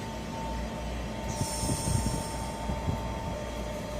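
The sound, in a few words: Southeastern Class 465 train 465151 arriving at Northfleet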